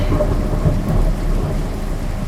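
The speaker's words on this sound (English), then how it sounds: "A storm." Thunderstorm in the horror game 10 Dead Doves: a steady, loud wash of heavy rain with a deep rolling rumble of thunder throughout, no voices.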